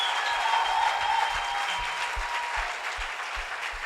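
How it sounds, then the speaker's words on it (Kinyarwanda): A church congregation claps for Jesus during a sermon, a sustained wash of many hands applauding together, loud and even for the whole stretch. "Piga makofi kwa Bwana Yesu"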